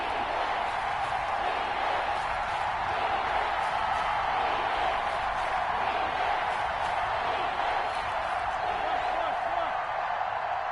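Stadium crowd in a Madden NFL game, Eagles versus Washington, building ahead of a big third down: a steady, loud roar of cheering and whooping that fills the whole stretch without pause.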